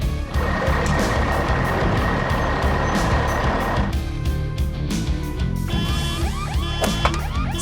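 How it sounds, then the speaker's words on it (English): A cartoon truck drives off after a garbage truck accident, its engine droning loudly and steadily, with a few beeping tones and squeaky effects near the end. "The truck quickly drives away to find other vehicles to help the garbage truck."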